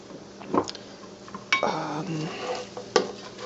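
Fried rice stirred in a pan, with a spatula scraping and clinking against the metal in three distinct strokes over a faint sizzle, close and fairly quiet.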